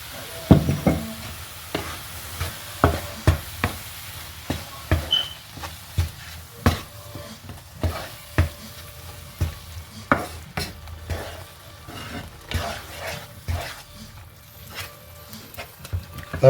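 Grated carrot cooking with sugar, cinnamon and cardamom in a pan for carrot jam: soft sizzling beneath repeated scrapes and clinks of a spoon stirring against the pan, irregular and close.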